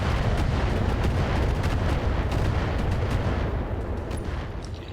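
Mechs fire their weapons in the BattleTech video game, making a loud, dense barrage of booming blasts and rapid shots that runs without a break and eases slightly toward the end.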